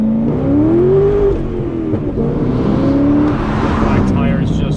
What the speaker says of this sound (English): See, I could use the rev match right there,